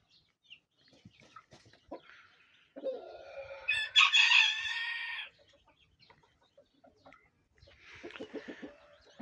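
A newly arrived training rooster gives one loud, close crow midway, with quieter clucking and rustling in the yard before and after.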